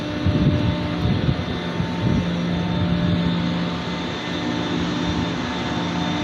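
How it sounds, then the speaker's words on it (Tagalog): A steady, loud mechanical drone with a low hum from a generator running continuously, with hiss of heavy rain and hail in the background on a cold night in Saudi Arabia. "Yan, generator area yan. Maingay lagi."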